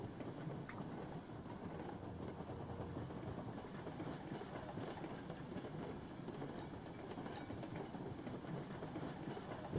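A steam locomotive in the railroad game Railroads Online, a steady low rumble and chugging with faint clickety-clack, running continuously at moderate level without talk.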